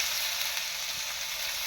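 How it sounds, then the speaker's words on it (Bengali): Potatoes fry in a pan with a soft, steady hiss that continues evenly and unbroken, with no voices. "আর এটা হচ্ছে আলু ভাজা করছে।"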